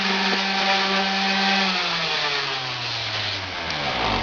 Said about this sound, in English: sand off the top.